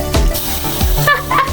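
Water poured into ugali cooking in a sufuria, giving a close, splashy gurgle with a few bubbling bursts and sputters, loud and alone.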